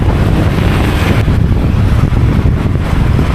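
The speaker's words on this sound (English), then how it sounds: "Oh boy, it's windy." Strong wind buffets the microphone in a roaring, continuous rush by a riverside in Vietnam, loud and unbroken throughout, with no voices.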